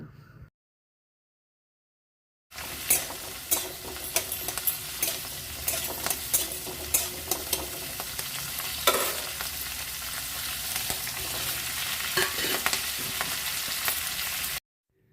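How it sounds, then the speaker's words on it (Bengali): After about two seconds of silence, quartered tomatoes go into a pan of frying onions. A continuous close sizzle follows, broken by the scrape and clatter of stirring, with no talking. "পেঁয়াজগুলি একটু ভেজে নেবার পর দুটো টমেটো 4 ফালা করে কেটে দিয়ে দেব।"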